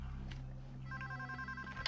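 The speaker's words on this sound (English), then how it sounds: "Another call. Answer the phone and pass me through." Telephone ringing in the Payday 2 video game, a short electronic ring sounding clearly over a low background hum, with no talk.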